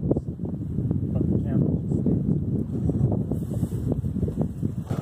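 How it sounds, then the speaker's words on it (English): Gusty wind buffets the microphone at a riverside camp during a thunderstorm, a loud low rumbling roar throughout, while a person talks over it. "Just the wind's just blowing everywhere."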